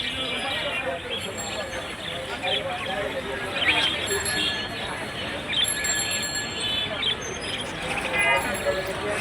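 Birds chirp and squawk at a busy parrot bird market in Mirpur, Dhaka, with bright chirps standing out over a dense, constant murmur of crowd and background noise.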